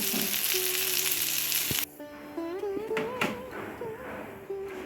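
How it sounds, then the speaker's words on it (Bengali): Soya chunks fry in hot oil with a loud, dense sizzle that cuts off abruptly after about two seconds, leaving a much quieter crackle with some faint tonal sounds over it. "সয়াবিনগুলো ভেজে নিয়েছি, খুব মুচমুচে করে ভাজবো না"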